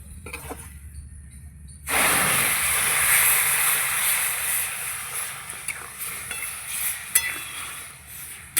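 Semolina being fried for patishapta, a loud continuous sizzle that bursts in after a quieter stretch, with a spoon stirring and scraping through the hot pan and occasional sharper clicks near the end.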